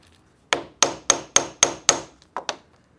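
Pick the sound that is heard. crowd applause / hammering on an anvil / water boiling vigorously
hammering on an anvil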